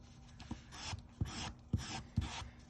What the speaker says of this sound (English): this is just sandpaper glued to a block to make it easier to sand the pieces down